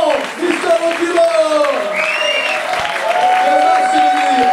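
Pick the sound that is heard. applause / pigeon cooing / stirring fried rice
applause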